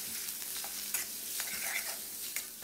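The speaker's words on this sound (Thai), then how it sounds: "และตามด้วยหมูสับ200กรัมนะครับผัดหมูของเราให้สุกเลยครับ" Minced pork, 200 grams, stir-fries in a hot pan with a constant close sizzle and occasional spatula scrapes and taps.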